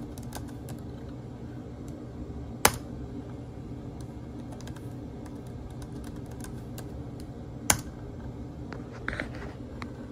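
Laptop keyboard keys tapped on a Toshiba Satellite 4015CDT while a password is entered, quick light clicks in short bursts over a steady fan hum, with two sharper key strikes standing out and no talking.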